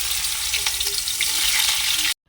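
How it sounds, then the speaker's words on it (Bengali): Bitter gourd fries in a pan for Bengali shukto, giving a loud, continuous crackling hiss that stops abruptly near the end. "আগে এগুলো সব একটু করে ভেজে নিতে হবে আগে উচ্ছেটাই ভেজে নিই"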